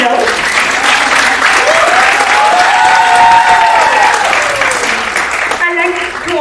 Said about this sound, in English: When you're supposed to clap for teachers, why do the claps go down?